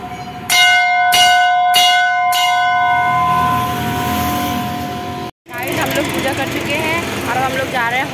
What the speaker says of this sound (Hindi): और यह है घंटी बजानी है